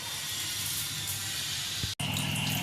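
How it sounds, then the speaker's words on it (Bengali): Water is poured little by little into rice coated with ghee and spices for festive Basanti pulao, a steady close rushing pour with a brief break before it resumes. "এবার আমি জলটা দিচ্ছি অল্প অল্প করে জলটা দিচ্ছি"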